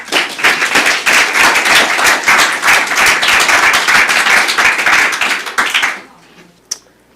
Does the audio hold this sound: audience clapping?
yes